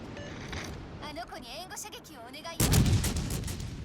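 Warship main guns firing at the Bismarck in World of Warships: Legends, a heavy booming salvo breaking in near the end after a stretch of talk and quieter game sounds.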